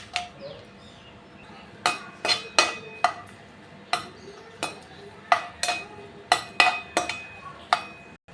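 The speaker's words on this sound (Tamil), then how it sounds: "இப்போ நல்லெண்ணெய் ஊற்றிக்கலாம் மிளகா வத்தலை இதில் எண்ணெயிலே போட்டு வறுத்துக்கலாம்" Dried red chillies fried in sesame oil in a pan for puliyodharai, with a quiet sizzle under sharp metallic clinks and scrapes of a ladle against the pan, about a dozen irregular strikes.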